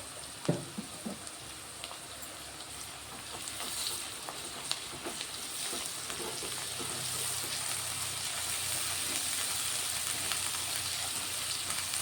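Ginger garlic paste and turmeric frying in a hot pan, a steady soft sizzle running throughout, with a brief clatter near the start and no talking.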